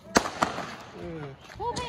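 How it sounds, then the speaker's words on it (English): Fourth of July fireworks pop in two sharp, close cracks early on, followed by a few fainter bursts, with voices and whistling tones between them. "ready to light up some fireworks"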